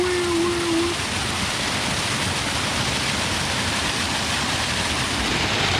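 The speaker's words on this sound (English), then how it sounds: "Just see, guys, this amount of rain." Heavy rain pours down steadily during a village flood, a loud, dense, unbroken hiss close by with no pause.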